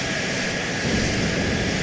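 Propeller engines of bombers in flight during an atomic war scenario under heavy defensive fire, a steady loud droning roar that swells slightly louder midway, with no voices.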